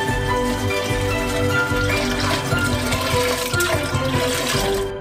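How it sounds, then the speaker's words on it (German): Five liters of milk pour into a large pot, making a continuous, fairly loud liquid gush that runs steadily for several seconds close by before tapering off at the end, with no talking. "Gießen wir 5 Liter Milch hinein."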